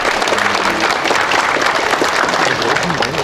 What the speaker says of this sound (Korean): 박수로 환영해주시면 고맙겠습니다